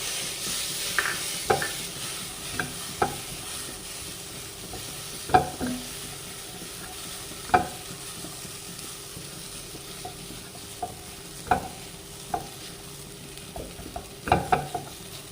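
Curry leaves and finely chopped tomato fry in hot oil while a spoon stirs them, giving a steady close sizzle broken by sharp scraping knocks against the pan at irregular intervals.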